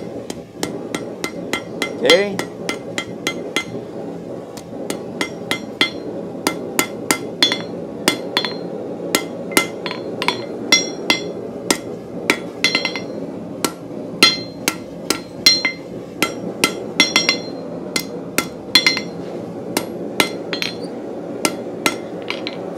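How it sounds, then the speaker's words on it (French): A hammer face tapping and refining a hook point on an anvil, many sharp ringing metallic strikes in an uneven steady rhythm, close, with a low background hum and a brief spoken word. "je vais venir peaufiner la pointe bien tranquillement, juste avec la tête de mon marteau."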